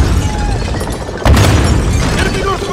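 A bomb explodes in the video game Call of Duty Modern Warfare, one sudden loud boom bursting over a dense background of game noise and continuing as a rumbling roar.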